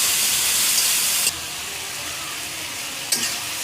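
Onions simmering in water with salt and turmeric, a steady close sizzling hiss that drops slightly in level partway through, with a faint clink near the end.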